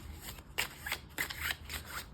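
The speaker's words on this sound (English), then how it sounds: "I like the sound that this one makes" A deck of tarot cards is shuffled close up, giving a few quick riffling bursts of crisp card flutter, each lasting a fraction of a second, with soft handling noise between them.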